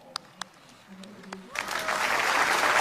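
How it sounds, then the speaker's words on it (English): A crowd at a Rally of Hope event starts applauding to welcome guests, beginning with a few faint sounds and then swelling into broad, steady clapping that grows louder toward the end. "Let us welcome them with a big round of applause."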